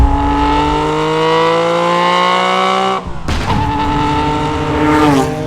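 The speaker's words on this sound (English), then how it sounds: "This has got a Formula 1 engine in it, one that spits flames." A high-revving Formula 1 engine in a Porsche 911 screams loud and close, its pitch sweeping steadily, then cuts out abruptly before snarling back with sharp throttle blips and rising revs.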